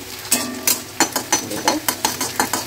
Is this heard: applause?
no